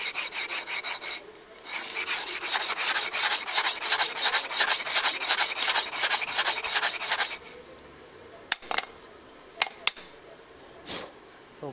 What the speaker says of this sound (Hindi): और लाइनर को ऐसे हम जमीन पे घिस देने का